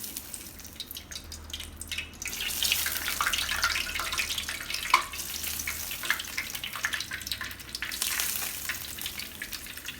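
Hot oil poured over frying pork belly sizzles and crackles loudly in bursts, swelling and easing as the oil is poured, with scattered pops over a steady hiss.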